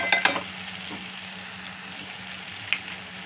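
A spoon stirs brinjal curry with grated coconut in a pan, giving a few sharp scraping clinks near the start and one later over a low, steady sizzle.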